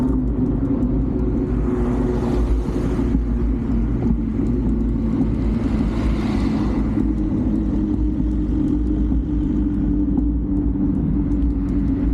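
Motor vehicles passing on a street in Obrenovac: a constant loud low engine rumble with a swell of passing-vehicle noise near the start and another around the middle, and no talk.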